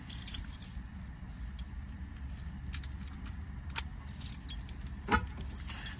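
Keys for a 2013-2015 Nissan Altima or Maxima jingle and clink lightly in a quiet car interior, with a few sharp metallic taps standing out from a faint background hum.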